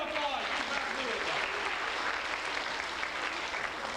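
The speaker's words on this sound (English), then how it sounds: "Give her a big round of applause." Audience applause at a stage show, a steady crowd of clapping hands with a voice briefly speaking over the start, moderately distant.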